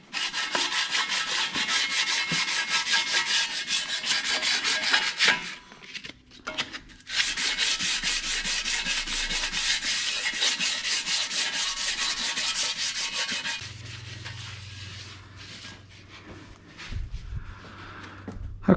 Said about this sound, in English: I am going to hit that with a little bit of sandpaper just like I did the other one